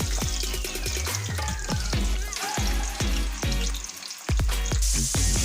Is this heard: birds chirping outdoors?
no